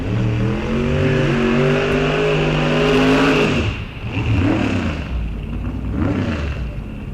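A 1969 Camaro and a 1966–67 Chevy II drag cars rev hard at staging on a drag strip test-and-tune day, loud sustained engine roar with rising harmonics for about four seconds, then repeated revs surging and dropping.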